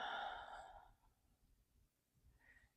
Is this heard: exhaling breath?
yes